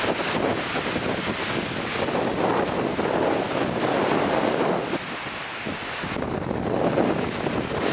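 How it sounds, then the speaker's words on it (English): Steady wind buffeting the microphone beside the sea at San Sebastian, a broad constant roar with surf mixed in, dipping briefly near the end before gusting back up. "It's a little bit windy."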